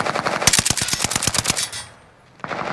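An automatic weapon fires a rapid burst of about a dozen loud shots in the Rebirth video game, then cuts off into near silence before a single faint report.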